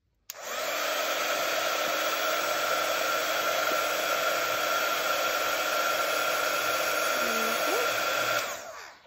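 A heat tool blowing on its highest setting to heat sculpting foam, a loud steady whooshing hum lasting about eight seconds, close up, then switching off.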